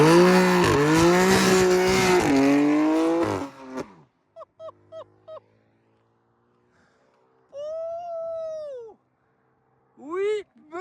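A BMW M4 F82 Stage 2 tuned to 550 horsepower launches hard from a standstill, its engine roaring loudly and climbing through rapid gear changes for about four seconds. Quieter short bursts follow, with voices talking.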